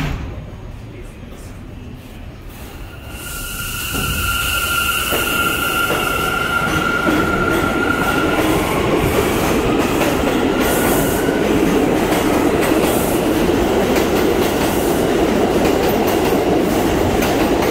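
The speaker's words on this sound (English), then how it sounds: "This is a 207th Street bound A express train." A 207th Street bound A express train on the NYC Subway at 181 Street station, loud and close, with rising motor whine and steady rumbling wheel noise building and sustained, a brief announcement voice near the start.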